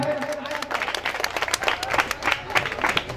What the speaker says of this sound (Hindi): चलिए जोरदार ताली हो जाए।